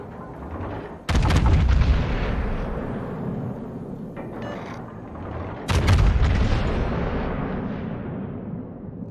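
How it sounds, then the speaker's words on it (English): Two heavy salvos from the German battleship Großer Kurfürst's guns boom out in World of Warships, each a loud blast trailing into a long rumbling decay, with several seconds between them. "We are all blind firing him because we have nothing better to shoot"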